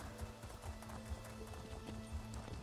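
A horse's hoofbeats clop in a steady rhythm during a ride in the video game Elder Scrolls Online, faint and low under a continuous game ambience.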